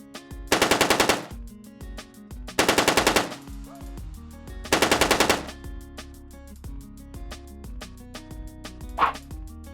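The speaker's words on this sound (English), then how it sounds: "if you need the gunshot and AK-47 sound effects, you can find a free download link in the write-up below" Three bursts of rapid AK-47 machine gun fire, gunshot sound effects, each lasting under a second with sharp repeated cracks, evenly spaced, followed by quieter clanks and a final short shot, loud and close.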